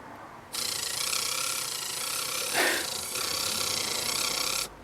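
A small Casio CP-10 printer mechanism whirs and rattles steadily across a plywood desk surface, a ratcheting buzz with a brief louder swell midway, no voices.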